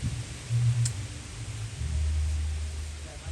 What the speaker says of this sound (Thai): ลมแรงพี่น้องเอ้ยลมแรงปุ๊บปุ๊บปุ๊บเลย